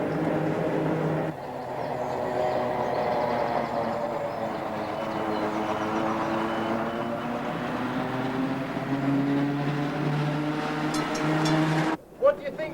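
An old museum tram rides noisily along its rails, a steady rumbling roar with rising and falling wheel tones and a sharp clatter and bump near the end; a voice can be heard faintly underneath.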